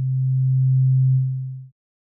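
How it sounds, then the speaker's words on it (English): A steady, pure FM-synthesis sine tone from the Aparillo synthesizer, one operator modulated by another hidden sine operator, holds evenly and loud for about a second and a half before fading out into silence. "we hear operator 2 being modulated by another hidden sine wave operator"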